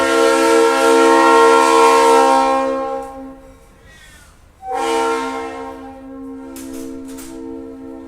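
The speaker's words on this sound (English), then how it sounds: "That, my friend, was a train." A train passing with its horn blaring, a long steady chord that breaks off and then returns, with the rumble of the rail cars behind it and no talking.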